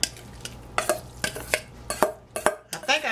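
Celery and onions sautéing in a pan for old-fashioned chicken dressing, quick rhythmic spoon strokes scraping and clattering against the pan over a low sizzle, close up with no talking.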